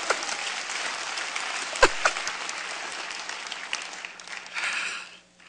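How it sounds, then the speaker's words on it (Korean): A church congregation applauds during an early-morning service, a dense, steady wash of many hands clapping at moderate loudness for about five seconds, with a couple of sharper knocks midway before the clapping thins out and stops. "박수 한번 해야 돼."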